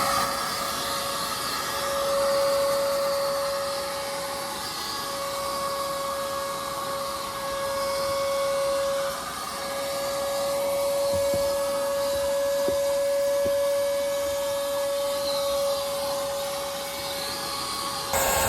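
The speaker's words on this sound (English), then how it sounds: "now I got the shop vac. I'm just gonna vacuum the whole car down" A shop vac runs steadily as it vacuums down a car's interior, giving a continuous, loud whine and rush of air with a few small knocks and bumps as the nozzle moves around.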